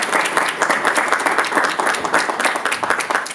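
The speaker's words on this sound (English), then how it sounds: "Round of applause, if you may." Audience at a school board candidate forum applauding, loud, close, steady clapping from a room of people that carries on throughout.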